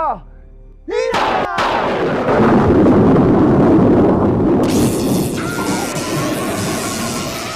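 A lightning strike from a magical staff in a Filipino fantasy tale, a sharp crack followed by a loud, sustained rumbling thunder crash that fills the scene and slowly fades.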